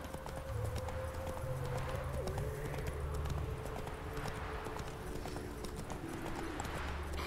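Roach, the horse in The Witcher 3, pounds along in a rhythmic clip-clop of hooves, steady and fairly close, under game music and occasional talking voices.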